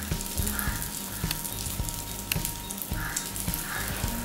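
Egg batter for a karandi omelette frying in a ladle, giving a steady, close sizzle throughout with occasional light scraping and tapping as the egg is pushed around.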